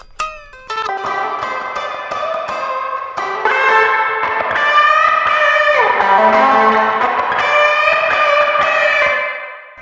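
Bright electric guitar notes ringing through heavy effects, sustained and layered with echo and a bell-like shimmer, playing alone and fairly loud.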